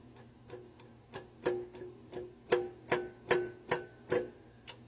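A Ford Escape engine is turned over by hand with a ratchet on the crank, giving a series of sharp metallic knocks from the flex plate, about eight to ten clicks in an uneven rhythm, close up and fairly quiet, with no talking.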